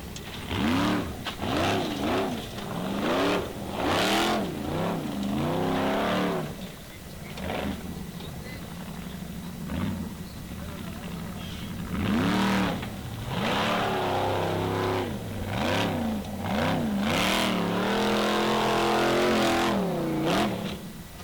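A Formula Offroad competition vehicle revs hard and drives on the track, its engine climbing and dropping in repeated loud surges with brief easings between bursts.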